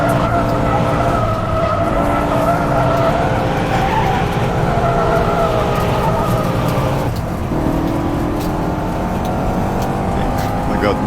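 A BMW M5 drifts through corners in the rFactor2 racing sim, its tires squealing in long, loud wails over a steady engine roar, with a brief dip in pitch midway before the squeal resumes.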